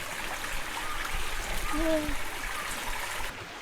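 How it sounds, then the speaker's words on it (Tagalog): Water from a stream at Nabasagan, Burias, Masbate runs as a steady broadband wash through the whole stretch. A brief animal-like tonal call rises near the middle, and no speech is heard. "nandito na tayo mga idol sa Sapa"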